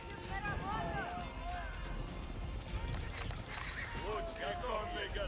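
Horse archers' hooves clatter in a steady galloping rush in a strategy video game, with scattered whinnies and a dense battle din beneath continuous commentary.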